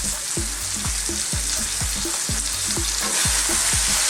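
Minced beef frying with onions, garlic, ginger and spices for a keema curry, a dense close sizzle broken by regular scraping strokes as the mixture is worked around the pan, with no speech.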